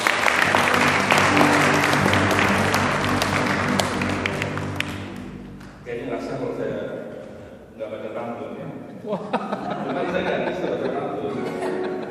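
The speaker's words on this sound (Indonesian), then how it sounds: "Mari kita tepuk tangan dulu untuk para panitia." Applause for the organising committee at a PERKI Europe gathering in Hamburg, a crowd clapping loudly for several seconds amid some chatter and chuckles, then fading as a voice begins talking.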